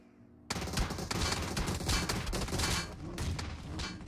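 Rapid sustained automatic gunfire from cover fire in a battle royale video game, a dense loud barrage that starts abruptly after a quiet half second and continues without pause.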